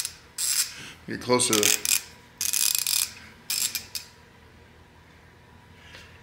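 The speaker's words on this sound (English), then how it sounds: "So this is a Quinn ratchet. Off, on." A Quinn 1/2-inch drive ratchet from a master socket set gives bursts of rapid, bright metallic clicking, close and loud, with short pauses between passes and a brief spoken remark.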